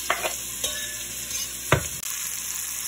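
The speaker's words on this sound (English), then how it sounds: "so we're gonna throw in these onions." Onions hit melted butter in a pan and fry with a steady close sizzle, broken by a few sharp clacks of a utensil stirring and scraping.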